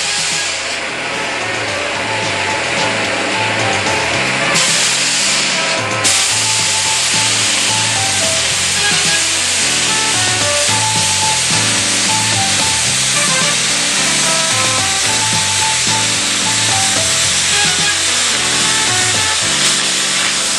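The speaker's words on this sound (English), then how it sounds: "light the torch, and begin the preheat. You cut the first flange from bottom to top." A Mini Mantis II torch cuts a thick steel flange from bottom to top after preheat, giving a loud, continuous rasping hiss with a rough, grinding texture that holds steady throughout, with no voices.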